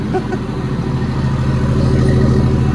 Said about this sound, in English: Beautiful exhaust off from that C9